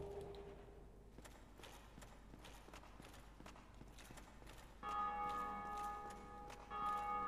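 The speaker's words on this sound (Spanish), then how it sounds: "Joder, con las campanas, ¿no?" Bells ring in the video game Dark Souls: Prepare to Die Edition, swelling into sustained, loud tolling tones over rhythmic clip-clopping game sounds, with a second surge near the end.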